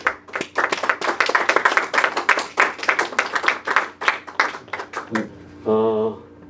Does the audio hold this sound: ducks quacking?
no